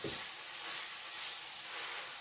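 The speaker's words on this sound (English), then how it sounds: "Just slowly mixing it in and frying it off." Risotto rice being stirred and fried in oil in a pan gives a soft, steady sizzling hiss, faint and unbroken, with no voices.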